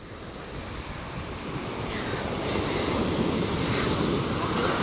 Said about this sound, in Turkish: Baksana dalgaya nasıl.